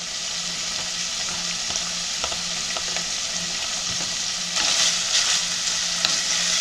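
Steady frying sizzle of onions and peppers in a hot pan fills the clip, with occasional light clicks of stirring and a brief louder crackle near the end.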